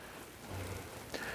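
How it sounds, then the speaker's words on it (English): A garden watering system gives a gentle rain-like patter, a soft, steady hiss of fine droplets on plants before dawn, with a brief louder splash near the end and no voices. "this just is a very gentle simulation of rain"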